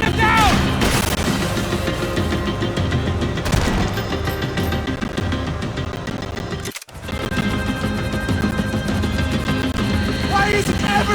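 Dense sustained gunfire and explosions during a Max Payne 3 gameplay action scene, loud continuous bursts layered over music and game sound, with a brief cutout partway through.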